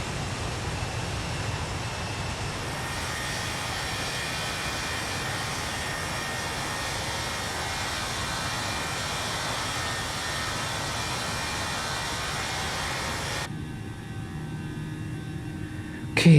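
Airbus A320 jet engines roaring steadily through a takeoff roll and climb in Microsoft Flight Simulator, a loud, constant broadband rumble with no speech, ending in a brief sharp swell.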